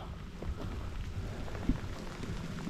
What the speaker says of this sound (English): It is raining quite a bit now.